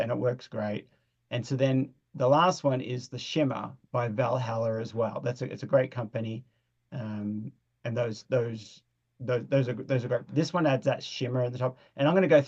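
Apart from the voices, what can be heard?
No distinct noise like a dog, phone or traffic.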